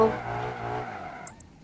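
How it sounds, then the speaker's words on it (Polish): A car drifts with a sustained tire squeal and engine whine that fade over a second and a half, followed by two brief high chirps near the end. "drift ogólnie zaliczony"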